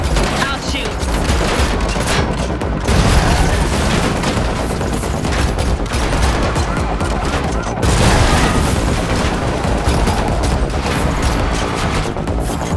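Sustained heavy gunfire from a car chase shootout in the video game The Matrix Awakens, loud continuous bursts and booms with dense action noise throughout.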